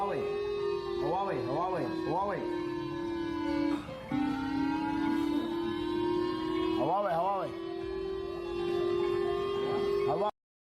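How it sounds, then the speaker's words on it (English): Tinny electronic siren tones played from a phone speaker wail and warble continuously for about ten seconds, loud and steady, with rising and falling sweeps. "he kept blasting siren noises from his phone"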